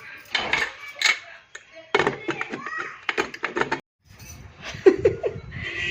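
A metal lid clatters onto a pot of moong khichdi in a home kitchen, a few sharp clanks among other dish and utensil knocks, with someone talking throughout.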